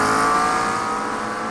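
Race car engines in the iRacing sim during an IMSA endurance race at Sebring, a loud, sustained roar of several cars revving together at close range.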